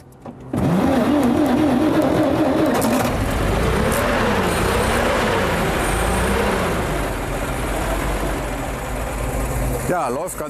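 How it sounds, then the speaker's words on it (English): A vintage 1919 Opel 8/25 car engine fires up and keeps running with a loud, rough, uneven chug close by, while someone talks over it throughout. "A bit of pressure from behind on the tank so that the fuel progresses forward and the car's up and running."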